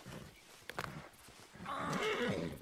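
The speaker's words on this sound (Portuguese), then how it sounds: "O cavalo se machucou." An injured horse in Red Dead Redemption 2 gives a distressed whinny, rising loud and sustained in the second half after a few brief sharp noises, with no talk over it.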